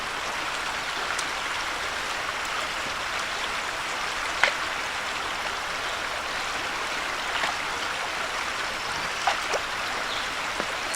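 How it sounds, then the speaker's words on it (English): A small woodland stream with little waterfalls rushes in a steady, even wash, with occasional faint splashes and drips and no talk. "it is beautiful back here with all the little waterfalls and everything"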